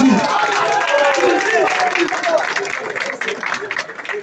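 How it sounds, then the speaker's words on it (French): An audience at a community discussion about ending violence in French neighbourhoods claps in a scattered, moderate burst while voices and other room noise carry on underneath. "On applaudit."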